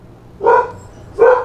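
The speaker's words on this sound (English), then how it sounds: "Sorry about the dogs." Two loud, close dog barks spaced under a second apart inside a home, with no talking over them.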